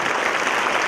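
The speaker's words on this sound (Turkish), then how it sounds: "Efendim bir kez daha alkışlıyoruz" Steady audience applause at a Turkish cultural and arts season opening event, dense continuous clapping from a large crowd with no break.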